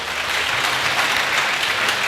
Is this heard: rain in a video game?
no